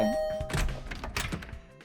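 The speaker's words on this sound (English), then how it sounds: "I rang the bell by the side of the door." Doorbell by a door in The Hundred Line, a soft electronic chime with a dull thunk, followed by a few faint clattering knocks, quiet and close, with no voices.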